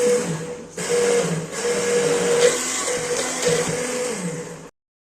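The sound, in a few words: electric hand blender blending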